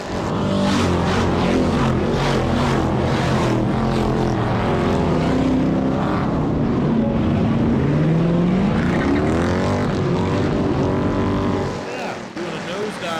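A Crown Vic race car engine fires back up on the Auburndale speedway during a caution, giving a loud, continuous rumble with rising and falling revs close by that drops away near the end.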